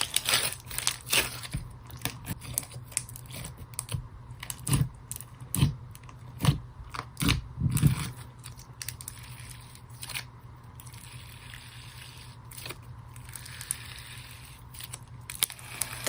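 Cheap Etsy slime being played with and stretched close up, giving quiet, scattered crackles and squishy pops, with a denser cluster of louder pops near the middle and no talking.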